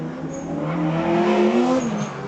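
Drift car at Redding Motorsports Park, street-class competition, accelerating hard out of a corner with the throttle floored; a loud, steady engine roar climbing in pitch, close and continuous for about two seconds, no talk.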